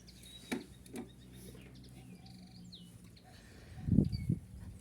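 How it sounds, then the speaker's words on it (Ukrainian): Faint, thin chirps of small songbirds and a few high whistles sound at a distance over a low background rumble in late February, with a louder bump of noise near the end. "Це прилетіли ці пташечки маленькі,"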